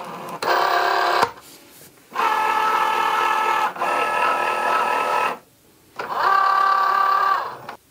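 A Cricut Joy cutting machine draws in a card with a close, steady motor whir that runs in several bursts separated by short pauses, each burst a buzzing mechanical drone with no voices.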